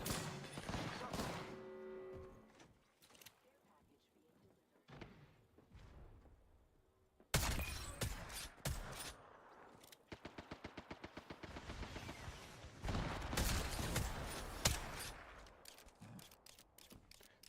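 Bursts of automatic gunfire from the Apex Legends video game, with rapid rhythmic shot trains and loud impacts in the second half and quieter game sounds earlier, while a voice talks intermittently.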